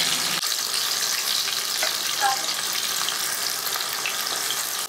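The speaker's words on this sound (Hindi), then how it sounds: "तेल अभी गर्म हो रहा है, गर्म हो गया। अब इसके अंदर मैं प्याज डालूंगा। सारा प्याज डालेंगे" Onions sizzle and fry in hot oil for a Chicken Mumtaz curry, a steady bright crackle running the whole time with a faint clink or two of stirring, close and fairly loud with no voices.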